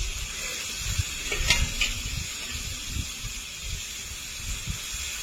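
Water poured into sizzling fried masala for a prawn curry: a sharp hissing flare near the start, then a steady close-up frying sizzle with soft stirring scrapes.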